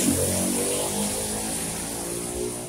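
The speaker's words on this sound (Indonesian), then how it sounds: "agak ribut sedikit karena pinggir jalan ada motor lewat tadinya" A motorcycle passes along the roadside, its engine a steady, fairly loud droning hum that holds for the whole stretch without fading away.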